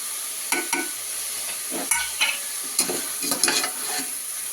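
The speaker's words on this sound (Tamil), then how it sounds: "நல்லா வதக்கிக்கலாம்" Onions with turmeric sauté in a hot pan, a steady sizzle broken by several sharp scrapes and clacks of a spoon stirring against the metal, close and loud with no talking.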